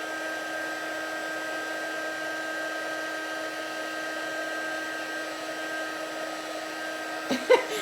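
A heat tool for glitter embossing runs as a steady, continuous blowing whir with a tonal hum, loud and unbroken throughout, with a brief soft knock near the end.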